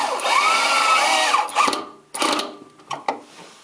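A power drill drives pocket hole screws to fasten a wooden box in place, its motor whining in a long sustained run before several shorter bursts, close and fairly loud.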